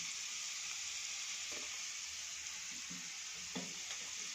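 A soft, steady hiss of spice tempering sizzling in hot oil in a pan, with chili flakes added, and a few faint stirring taps, no voices.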